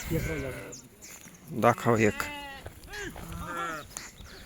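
Sheep at a Maharashtra farm bleat several times, close and overlapping, mixed with someone talking nearby.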